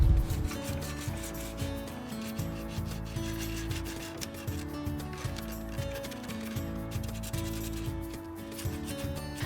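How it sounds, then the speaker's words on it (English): Steady, loud rasping strokes come from sanding a dresser's plastic moldings before painting, a continuous close rhythmic rubbing with no speech. "giving it a good sand, especially on those plastic molding areas"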